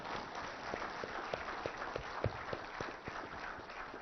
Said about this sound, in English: I think my entire team deserves a huge round of applause.